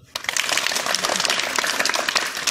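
An audience claps continuously in dense, rapid applause, a loud crackling spread of many hands that starts abruptly and holds steady for a couple of seconds.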